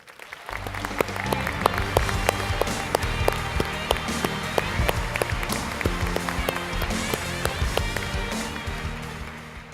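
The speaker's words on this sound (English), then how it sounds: "Please give a warm round of applause for the induction of Jessi Alexander." Sustained applause from an audience at a YMCA Hall of Fame induction ceremony as Jessi Alexander is inducted, dense steady clapping filling the hall with a low rumble beneath, continuing for the full length.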